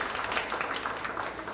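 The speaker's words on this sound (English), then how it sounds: "Let's give him a round of applause once again." An audience at an awards dinner and ceremony applauds, a dense continuous patter of many hands clapping at a steady level throughout a brief burst, with no speech.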